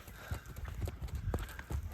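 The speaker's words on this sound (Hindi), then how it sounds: "ये सुबह सुबह दौड़ते हैं तो बढ़िया रहता है घोड़ा।" Horse hooves clip-clop at a running pace on a cold winter morning, a steady stream of close, sharp strikes with occasional low thuds and a faint background hum.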